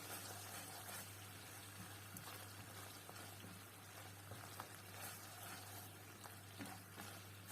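Food fries in a pan over low heat with a steady soft sizzle and occasional scraping stirs, faint and continuous over a low hum.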